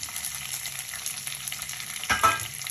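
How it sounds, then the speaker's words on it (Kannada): Chopped ridge gourd and tomato fry in a pan with a quiet, continuous sizzle, followed near the end by a brief stir or scrape, close and without talk. "ಇದನ್ನು ಚೆನ್ನಾಗಿ ಹುರ್ಕೊಳ್ಳೋಣ"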